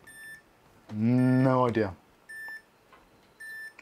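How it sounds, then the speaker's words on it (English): Short, sharp electronic beeps repeat at regular intervals in the background, each a brief bright tone, while someone speaks briefly. "not sure if the beeping is from life support on casualty or just you"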